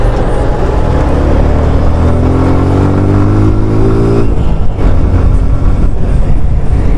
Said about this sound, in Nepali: मेरो बाइकको के हल्दिरहेछ